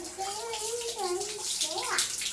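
Water running and splashing while a child washes a muddy shoe, a steady close gush with someone speaking over it.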